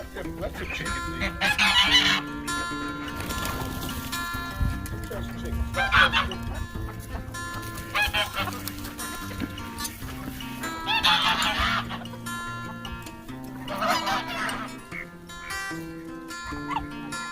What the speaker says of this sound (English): Let them chickens eat.